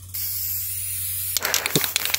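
Spray can hissing as paint goes onto a motorcycle side car; a steady broadband hiss carries through, then bursts into louder, choppy sprays with short pulses and a brief thump near the end.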